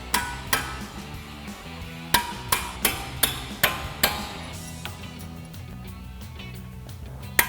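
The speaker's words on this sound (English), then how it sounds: "take a hammer and tap it out" Sharp metallic hammer taps on a punch, driving a brake caliper pin out of a 2015-2023 Mustang GT during a brake pad change: a steady series of close, ringing strikes that grow lighter toward the end, with no talk.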